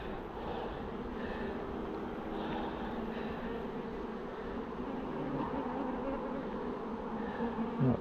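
Honeybees from a hive during a swarm transfer hum in a steady, dense drone that fills the whole stretch without letup, close by and outdoors, with no voices over it.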